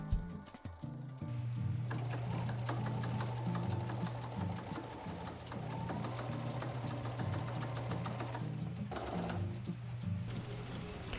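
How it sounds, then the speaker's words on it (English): A sewing machine stitches front and back panels of thick canvas pants, a steady close mechanical whir with rapid needle ticking that runs almost continuously, briefly slowing near the start and end; no one speaks. "Here I'm starting to sew the back and the front panels together."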